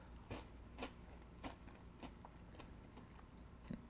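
Close, crisp crunching of Old Bay seasoned Goldfish crackers, several distinct bites spaced about half a second apart, alone with no talk.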